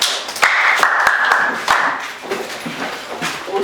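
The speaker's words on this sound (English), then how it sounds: "Please clap for him." A classroom applauds a student during a biology lesson, with a short burst of scattered hand claps and taps that quickly fade into quieter room noise.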